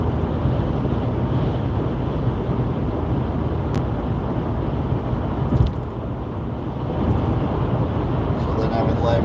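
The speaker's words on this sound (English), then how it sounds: "Very, very windy. I can hear it, feel it blowing the car." Strong wind buffeting a car driving at night in the rain in the UK, a steady loud roar of road and wind noise inside the cabin with brief gusting swells and voices talking.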